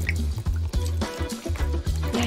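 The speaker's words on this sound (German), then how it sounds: "Und jetzt kommt noch heißes Wasser drauf" Hot water poured from above onto noodles and spices in a bucket, a close, splashing liquid stream that fills the container, broken by a few brief pauses.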